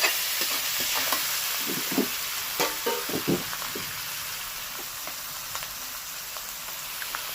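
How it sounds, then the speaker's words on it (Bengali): Chicken stirred and frying with chili powder in a hot pan for a home-style desi chicken with new potatoes: a steady close sizzle with scattered scraping stir strokes, clustered early and thinning later, no talking. "এইবার একটু নেড়ে চেড়ে এর মধ্যে দিয়ে দেবো চিকেনটাকে"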